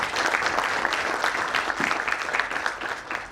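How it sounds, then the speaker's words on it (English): At a national conference on social innovation, the audience gives a brief round of steady applause welcoming the chief guest, a continuous patter of many hands in a hall. "So a round of applause to welcome him also."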